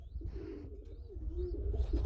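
Modena pigeons at a bird sale cooing softly, a few low rolling coos over a quiet, rumbling background with faint chirps.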